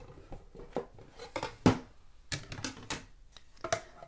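A small Stampin' Cut & Emboss die-cutting machine is handled up close, making a string of quiet clicks, knocks and plastic clatters at uneven intervals with one sharper thump partway through, and no voices.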